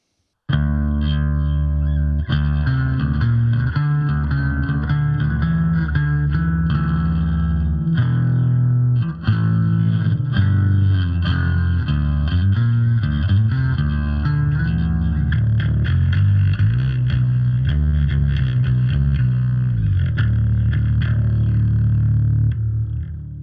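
A Squier Affinity Jaguar H bass played through a preamp with a pushed clean tone, lines of sustained low notes with a slight grit, loud and close, running steadily for over twenty seconds with no voices.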